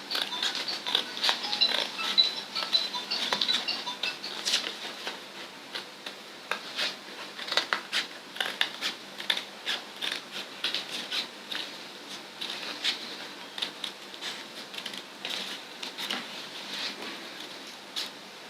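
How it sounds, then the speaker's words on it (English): Scissors snip through paper close by in a run of short, crisp cuts with small pauses between strokes. "I'm going to cut around it"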